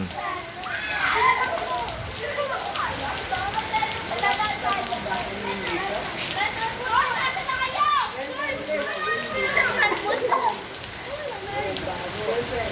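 Heavy rain pours down steadily while children play and dance in it, a dense continuous hiss with lively kids' voices and shouts rising over it throughout.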